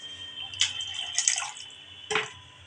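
Water is poured into a pan of hilsa fish curry in a couple of short, close splashing bursts over a quiet background.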